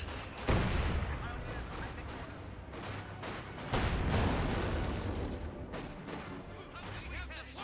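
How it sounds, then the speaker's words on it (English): Mortars and field guns fire in a Company of Heroes 2 battle, with repeated booming blasts and crackling bursts of gunfire that overlap in a dense, rolling barrage. "Got mortars there going off against them. Field guns opening up"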